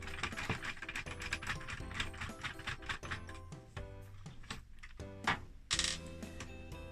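Final screw being unscrewed from a Commodore 16 keyboard assembly, a rapid run of small metallic ratcheting clicks and ticks, close and fairly loud, with a brief scrape near the end.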